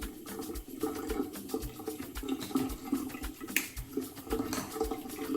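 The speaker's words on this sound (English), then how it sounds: "we're going to rinse the hair off." Water runs and splashes steadily as stubble is rinsed off a freshly shaved bald head, a faint, continuous wash with soft irregular spatters.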